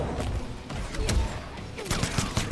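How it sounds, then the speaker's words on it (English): Gunshots in the fighting game Mortal Kombat X during a tournament match, a few sharp bursts of game gunfire with booming impacts over a busy mix of game sound effects. "tries to go for the gunshots right there."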